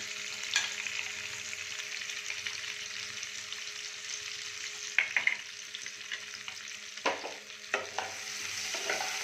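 Potatoes frying in a pan with turmeric, salt and chili powder, a steady moderate sizzle with occasional spoon stirs and scrapes near the end, close and without talking.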